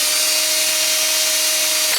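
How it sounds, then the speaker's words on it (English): A power drill spins an arrow insert held in pliers against an insert sander disc, making a loud, steady high whine that runs unbroken for about two seconds before cutting off. "Hold that with my pair of pliers and just run the drill"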